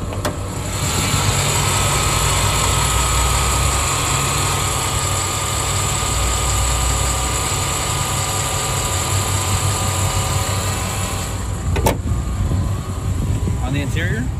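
The automatic 2008 Isuzu Ascender's 4.2 liter engine idles, a loud, steady close rumble and whir that keeps going evenly, with a brief knock near the end.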